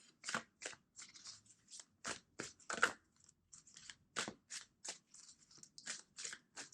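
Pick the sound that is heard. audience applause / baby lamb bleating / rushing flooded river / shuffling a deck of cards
shuffling a deck of cards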